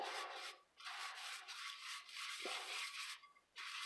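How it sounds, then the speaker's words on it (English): Wet-to-dry sandpaper lightly wet-sands around an epoxy-coated fish lure cup, giving close, steady rasping strokes with a few brief pauses between passes and no talking. "sand all the way around"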